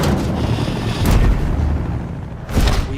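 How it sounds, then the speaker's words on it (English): Massive cannon fire from the AMP suit, a mech in Avatar: deep booming blasts with a heavy low rumble, two strong bursts about a second and a half apart, loud and close with no voices. "the amp suit has to sound like the most massive cannon you ever"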